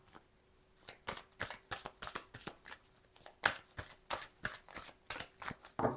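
Tarot cards are shuffled close at hand, a fast run of soft papery flicks and riffles in uneven bursts, fairly quiet with a faint steady hum underneath.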